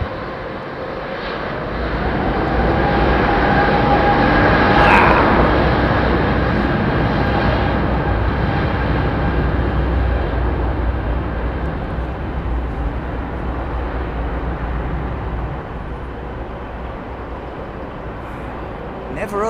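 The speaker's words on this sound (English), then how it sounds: "The big, bassy noise as the jet" A deep, loud bass rumble of a jet aircraft engine at London Heathrow Airport builds in the first seconds and then holds steady, a broad roar filling the whole stretch.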